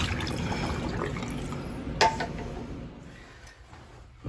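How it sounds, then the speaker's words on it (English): Water poured from a container into a sink while draining out water from under a leaky baseboard, a steady splashing trickle with drips that fades over a few seconds. "Pour it into the sink."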